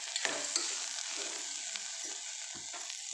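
Ingredients for brinjal dal fry in a pan with a steady, fairly faint crackling sizzle, broken by a few short scraping stirs of a spoon, heard up close.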